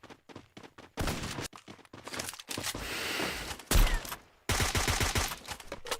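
Rapid bursts of gunfire trade back and forth in a Valorant pro scrim match: clusters of sharp shots, a sustained volley in the middle, then dense repeated firing near the end, loud and close.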